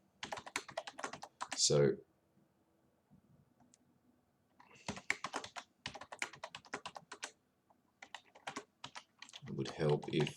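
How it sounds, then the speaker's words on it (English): Fingers tap out bursts of keystrokes on a computer keyboard, close and quiet clicking in short runs with pauses, while a person speaks between and over the typing. "it would help if I type the right username in"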